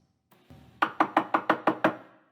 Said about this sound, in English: I hear knocking at the south entry